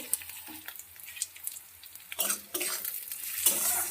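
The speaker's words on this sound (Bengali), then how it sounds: "ঢাকনাটা খুলে একবার নাড়িয়ে দেবো" Onions being stirred in a frying pan for Bengali egg curry, with a soft sizzle and intermittent scraping and clinks of the spoon against the pan, louder bursts near the middle and end, no talking.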